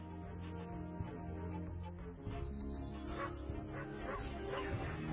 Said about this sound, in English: Random dog.